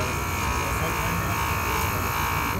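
A grinder steadily grinds engraving flat off a metal piece, a loud continuous high whine and buzz with no breaks.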